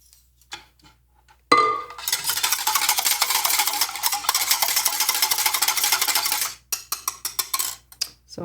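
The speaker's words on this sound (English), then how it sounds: "So now I can mix it with the quark." Quark cheesecake mixture being worked in a bowl, a loud continuous whirring mix lasting several seconds, then a run of short knocks and scrapes against the bowl.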